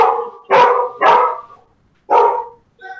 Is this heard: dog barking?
yes